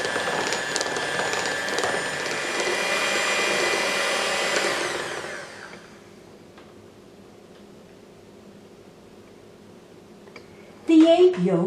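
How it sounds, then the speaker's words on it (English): Hand mixer beating egg yolks at low speed in a bowl for a Spanish cake roll: a steady, whirring motor hum that winds down and stops midway, then a quiet pause and a short burst of noise at the end. "With a hand mixer, beat the egg yolks at low speed until the yolks have a pale yellow color and a creamy texture"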